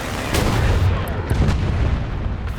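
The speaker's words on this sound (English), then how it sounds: "Phew, that bomb scared me. Thought it was close to me" A bomb explosion in a War Thunder tank battle rumbles as a dense, sustained roar with a few sharp cracks mixed in, loud and enveloping but not clearly close.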